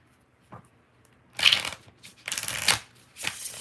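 Tarot cards are shuffled by hand in several short, crisp bursts of riffling and flicking, close up, with quiet pauses between the bursts.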